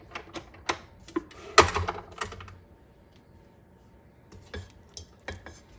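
Sweet potato pie filling is mixed in a bowl with sharp, irregular clicks and clatters of a utensil, then a quieter stretch and a few more scattered taps.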